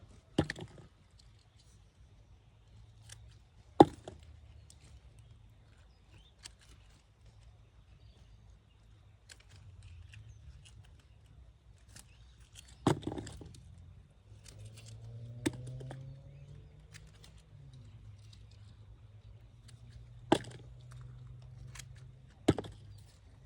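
Shears snipping rosella stems and seed pods outdoors, a few sharp isolated cuts spaced out over a low steady hum, with faint rustling between snips.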